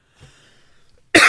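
After a moment of faint breathing and small mouth noises, a single loud, sharp cough bursts out close to the microphone at the very end.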